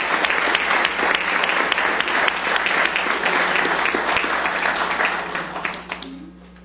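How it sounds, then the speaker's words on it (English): An audience at a county commissioners court session applauds steadily for several seconds, a dense, fairly close clapping that tapers off and fades at the end. "Let's give them a round of applause."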